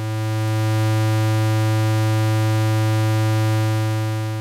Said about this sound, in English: and a square wave.